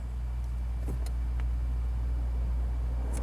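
A Toyota Prius air-conditioning blower motor running after earlier failing, a steady low hum and whoosh of airflow inside the car, with a few faint clicks over the constant drone.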